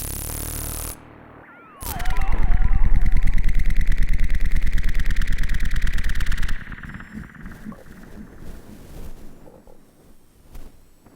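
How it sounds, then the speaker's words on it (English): Harsh distorted noise from mixer gain stages overdriven into each other, a loud buzzing, rapidly pulsing roar lasting several seconds, then dropping to quieter sputtering fragments. "what you're hearing here is the result of a few different gain stages abused and pushed into each other wrongly."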